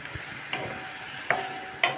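Kikiam frying in a pan for pancit is stirred, a low sizzle broken by three sharp metallic scrapes and clinks of the utensil against the pan.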